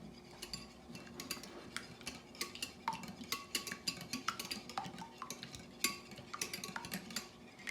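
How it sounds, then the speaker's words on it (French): A utensil whisks egg yolk in a bowl, giving quick, light, irregular clinks and taps against the bowl. The sound is faint and close, and nobody speaks. "Donc là, on a l'œuf, le jaune d'œuf, et là, il faut le mélanger."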